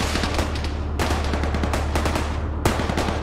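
Gunfire in Arma 3 during an intense urban firefight, steady dense bursts of automatic fire with sharp individual shots cracking throughout, loud and continuous over a constant low rumble.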